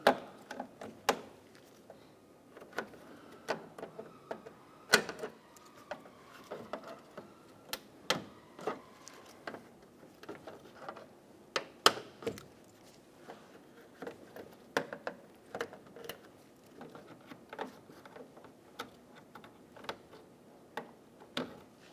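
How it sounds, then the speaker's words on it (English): Plastic trim clips being popped out of the top bumper trim of a 2012-2020 Chevrolet Sonic with a trim tool, giving a series of sharp, irregular clicks and snaps against faint background noise, with no talk. "Using a trim tool, we're going to pop all of the plastic clips out of the top trim."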